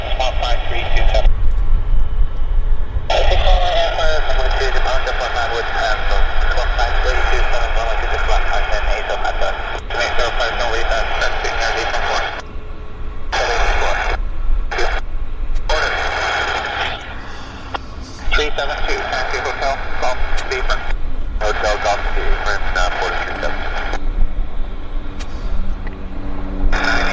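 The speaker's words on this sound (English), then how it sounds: "Somebody's radio's pretty garbled." Garbled air traffic control radio at Vancouver International Airport (YVR), a distorted, broken-up voice transmission that cuts in and out over a steady low rumble of airport ambience, with several short gaps of near silence.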